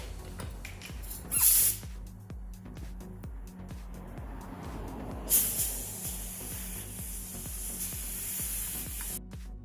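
Final coat of spray paint going onto a Toyota Tacoma body in an auto body shop, with hissing bursts of the spray gun rising and falling over a low steady hum of equipment.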